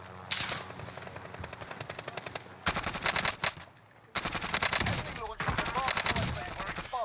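Rapid bursts of automatic gunfire in a shooter video game, loud and close, with several long sustained volleys separated by brief gaps and a voice talking over the shots.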